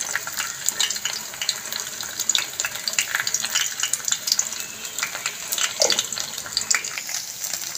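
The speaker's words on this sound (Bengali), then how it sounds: "ডিমটাকে ঘি দিয়ে ভেজে নিলাম" An egg fries in ghee with a bright, steady crackling sizzle and scattered pops, close and fairly loud throughout.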